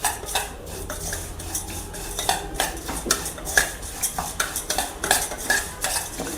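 Dry fruits lightly fried and roasted in a pan, stirred with a metal spoon that scrapes and clinks against the pan in quick, irregular strokes, close and fairly loud, with no voices.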